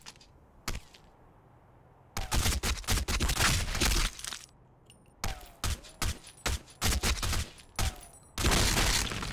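Rapid bursts of gunfire in the shooter game Black Squad, single shots and quick volleys cracking loudly in irregular clusters, with no talking.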